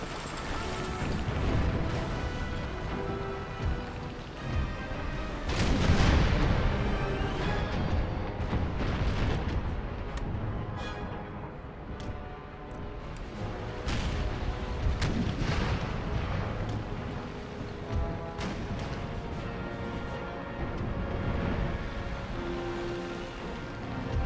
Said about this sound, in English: Oh, fire the damn guns, man!